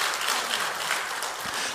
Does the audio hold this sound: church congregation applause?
yes